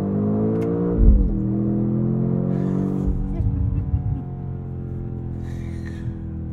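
A 2024 BMW X5 M Competition accelerating, a deep engine drone that rises through gears with a shift near the start and again midway, heard from the cabin, loud and sustained, with no talking.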